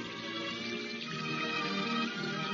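Fresh water pours into a goldfish bowl in a steady, continuous splashing gush, close and moderately loud, with no voices over it.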